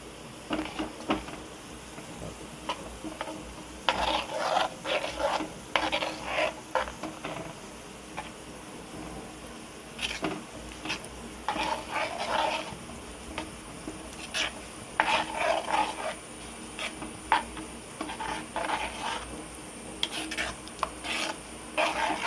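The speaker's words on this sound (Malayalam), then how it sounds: "ചെറുതായിട്ടൊന്ന് ഇളക്കി കൊടുക്കാം." Tapioca being stirred through simmering coconut milk in a pan for Kerala paal kappa, heard as repeated scraping and rubbing strokes in bursts against a steady low bubbling, close and alone without talk.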